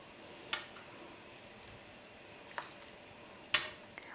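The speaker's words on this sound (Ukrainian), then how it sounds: "І таким чином обсмажую усі пончики." Cheese doughnuts frying in hot oil, a faint steady sizzle with three sharp close ticks and clinks from handling, no voices.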